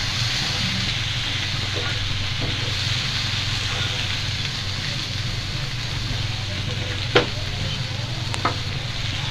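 Tomatoes stir and fry in a pan for veg masala Maggi, a steady hissing sizzle over a low burner rumble, with soft scraping strokes and two sharp clinks of the spoon against the pan toward the end.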